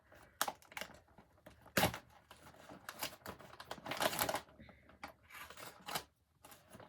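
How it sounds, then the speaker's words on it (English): Scissors snip open a mail package indoors, a scattered series of sharp clicks and crisp cutting and crinkling bursts at close range, some louder than others, with brief pauses between. "I need more scissors. I mean, I need to cut some more."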